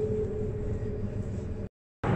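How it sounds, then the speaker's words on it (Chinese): A train pulls out of a station with a continuous low rumble and rolling drone, which cuts off briefly near the end before resuming. "火车走了"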